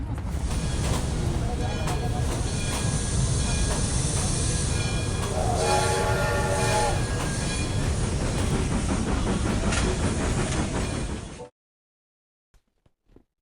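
A rumbling train sound effect opening a podcast, loud and continuous with hissing steam and clattering wheels for about eleven seconds, then an abrupt cutoff to silence broken by a few faint clicks.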